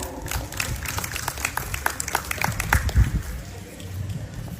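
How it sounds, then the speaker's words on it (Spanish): Applause from a school audience, steady and fairly close, a mass of overlapping claps with a few louder bursts and a faint murmur of voices underneath. "Adelante, Maylen, aplauso para ella."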